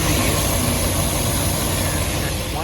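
Engine of a 1967 MG MGB GT, a 1.8 liter four-speed manual sports car, idling with a steady loud rumble throughout a short stretch.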